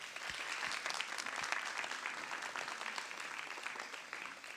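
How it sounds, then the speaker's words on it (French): Warm applause from an audience fills the room for an award recipient at a prize ceremony, steady clapping throughout with no clear voices. "Vous pouvez l'applaudir."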